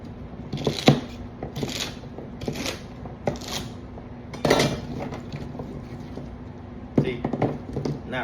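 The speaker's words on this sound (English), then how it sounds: "See, not really any type of particular shape, just rough chopped." Knife rough chopping vegetables for chicken stock on a cutting board, sharp irregular chops in short bursts with pauses between them, close and distinct.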